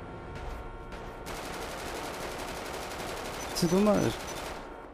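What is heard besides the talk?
gunshots in GTA RP video game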